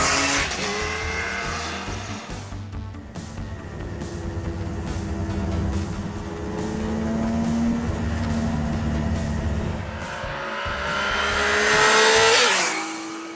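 A 1982 Honda CBX1000 Super Sport's six-cylinder engine revs loud and close, pitch climbing and falling through sustained throttle with a sharp rise near the end, no talking.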